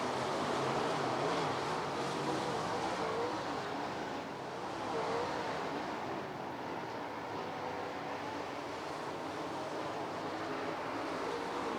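Dirt track race cars roar around Lernerville Speedway in a steady, continuous engine drone, the pack blending into a broad rumble with no voices.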